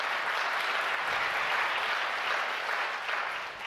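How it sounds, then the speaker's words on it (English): A lecture audience breaks into dense, steady applause that stays loud and even throughout, tapering slightly at the end, with no talking over it. "Yes, you can clap for that."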